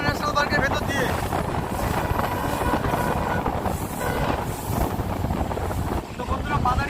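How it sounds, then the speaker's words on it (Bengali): A passenger train runs through the forest of Jaldapara National Park in the Dooars, West Bengal, giving a steady, loud rumble of wheels and carriage noise with wind buffeting throughout, no clear horn. "ট্রেন চলছে জলদাপাড়া ন্যাশনাল পার্কের ভেতর দিয়ে"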